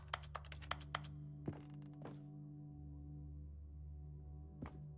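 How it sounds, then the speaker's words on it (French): Keyboard clicks in the video game The Stanley Parable: a quick run of sharp taps at the start, then a few isolated thunks spaced apart, over a steady low hum. "C'est marrant quand il clique, ça fait un clic clavier."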